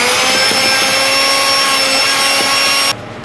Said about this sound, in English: I'm using a stick blender.